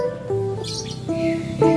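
A caged female Asian fairy-bluebird (cucak biru) gives loud, clear, close whistled chirps and tonal calls in a short series of notes.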